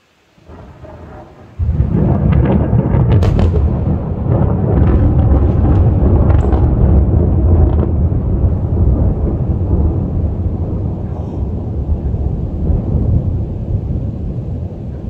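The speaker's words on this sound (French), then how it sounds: "La déflagration du tonnerre a été entendue à plus de 10 km à la ronde sur toute l'agglomération grenobloise." Thunder from a lightning strike about 300 metres away in the Grenoble area: a sudden sharp crack followed by a long, loud rolling rumble that slowly decays, heard over rain without talk.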